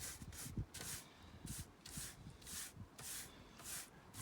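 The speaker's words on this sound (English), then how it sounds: "Give it a little rub down first. A bit of sandpaper just to key it up." Sandpaper rubs back and forth over a fibreglass boat splash screen to key the surface, a soft rhythmic scratching of about eight strokes, close and faint.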